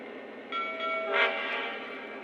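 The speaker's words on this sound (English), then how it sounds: "until you get a whistle and a bell." A Lionel GP7 diesel model train sounds its whistle, a sustained tonal blast that swells near the middle and fades, with a faint ringing bell mixed in, close and alone.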